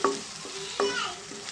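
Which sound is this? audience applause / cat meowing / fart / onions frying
onions frying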